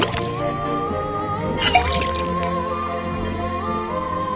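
Water running and dripping from a faucet into a cauldron in the Detective Grimoire video game, a steady liquid trickle with a brief splashy burst partway through, heard under a sustained tonal music backdrop.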